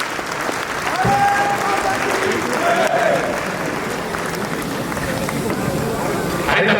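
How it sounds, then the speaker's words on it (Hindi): Large audience clapping at a Sanatan Hindu Mahotsav in Delhi's Talkatora venue, a loud, sustained wash of applause with some voices mixed in and a brief tone heard early. "ये तालियां जो है ना, ये सब प्रकार का काम करती है"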